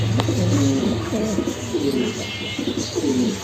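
A pigeon coos close by in a series of soft, rounded, repeated calls with short gaps between them.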